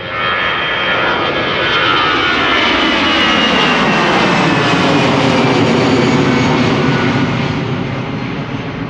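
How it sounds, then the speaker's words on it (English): A KLM Boeing 737-800 departing Amsterdam Schiphol for Stavanger produces a loud, sustained jet engine roar throughout, with a sweeping rising whine as the aircraft passes close by. "in the background, KLM Flight 1175 to Stavanger. One of the 2 consecutive 737-800s from KLM."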